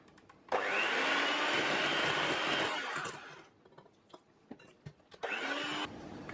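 Electric hand mixer beating milk into strawberry three-milk cake batter in a bowl, a steady loud whir for a few seconds, a pause with light clinks, then another burst of whirring.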